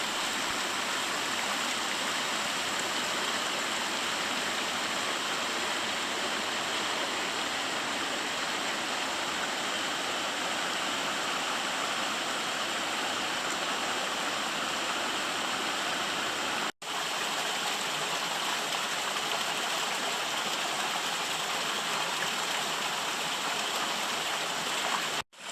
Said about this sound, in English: The tributary creek was pleasant to listen to and take a moment to recover.